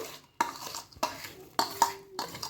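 A spoon scrapes and knocks against a pan while fried edible gum is mixed into roasted flour, four sharp strokes at a steady rhythm, close and alone.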